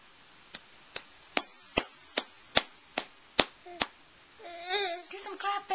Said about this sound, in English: Do some clapping.